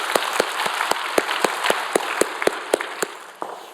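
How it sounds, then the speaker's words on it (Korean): A Korean church congregation claps together during worship in sharp, evenly spaced claps, about four per second, steady and close, tapering slightly at the end with no talk over it. "우리 박수로 하나님께 영광 돌립니다"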